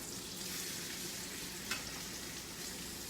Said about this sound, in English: When you're cooking meat, you put it on there and you leave it alone.